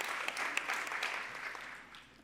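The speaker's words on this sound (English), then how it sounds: "let's still give a round of applause for Marie" An audience at the Saskatchewan Arts Awards ceremony gives a round of applause, a bright, dense patter of many hands heard alone that gradually tapers off.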